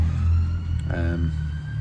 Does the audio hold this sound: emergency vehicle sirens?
yes